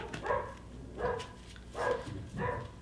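A few neighborhood dogs bark in four evenly spaced bursts, each a cluster of yaps, heard from some distance with quiet between.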